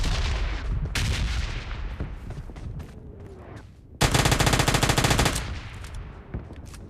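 Gunfire from PUBG Lite opens with a few scattered shots, then a sharp sustained automatic burst lasting over a second, followed by more scattered shots. The shooting is loud and close, with no talking.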